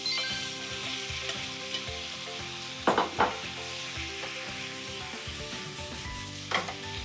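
Pork and cabbage stir-fried on high heat, a continuous bright sizzle with clanks of a spatula against the pan around the middle and once more near the end.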